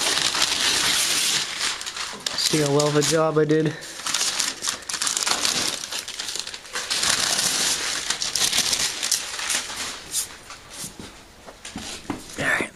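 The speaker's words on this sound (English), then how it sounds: "it's good enough to pull the paper off," Masking paper is peeled and crumpled off a freshly painted, still slightly tacky lawn tractor, making loud, continuous crinkling and tearing close by. A person briefly speaks over it.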